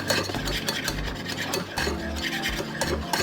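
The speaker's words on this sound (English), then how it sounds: "add some of my heavy cream a little bit and get that sort of incorporated, the flour and stuff. Stir it up nicely" Steady scraping and rubbing of a spoon or whisk stirring heavy cream into flour in a pan, a continuous close rasp that runs without pause and with no talking.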